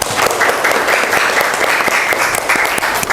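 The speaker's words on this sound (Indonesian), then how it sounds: "Beri tepuk tangan untuk Ilham." Loud, steady applause from a class group, continuous clapping filling the whole moment.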